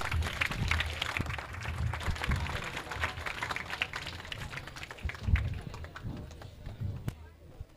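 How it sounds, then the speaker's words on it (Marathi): Loud applause from a gathered audience at an opening ceremony of an educational guidance event, dense rapid clapping sustained throughout with some voices mixed in. "जोरदार टाळ्या होऊ द्या"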